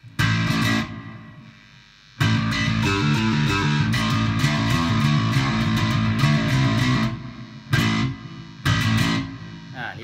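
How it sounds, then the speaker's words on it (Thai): Electric guitar played through a Line 6 Helix LT with a drive tone and reverb on the second channel, loud, sustained chords ringing with a reverberant tail, broken by short pauses and rhythmic restarts. "ช่องที่2เหมือนเดิมผมเปิดรีเวิร์บ"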